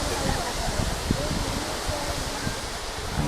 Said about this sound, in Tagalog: Ang paligid ng Asen Falls